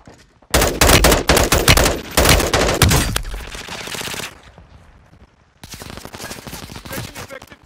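Automatic gunfire in Call of Duty: Modern Warfare 2 (2022): loud, close bursts of rapid shots for about three seconds that thin out and fade, a short lull, then another sustained burst of fire.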